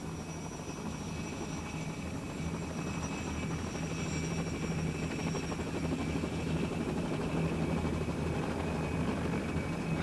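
A steady, droning autogyro engine hum with a low, chopping rotor throb, continuous and fairly close, with no voices.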